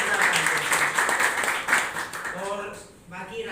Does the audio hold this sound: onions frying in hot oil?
no